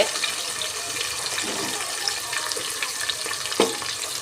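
Cut onions frying in a pan for a moong dal khichdi, a steady broadband hiss of sizzling with a few soft clinks of stirring, close and fairly loud throughout with no talk.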